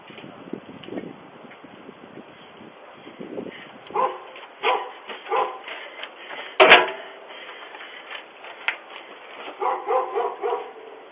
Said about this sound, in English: Listen to the dog bark.